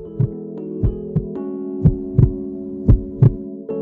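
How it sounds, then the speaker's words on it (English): Heartbeat sound effect set to a steady four-on-the-floor pulse, with deep thumps landing in pairs and singles over a sustained low hum, loud and close with no talking. "In the middle of it all was Mo, with her heartbeats playing a steady 4 on the floor"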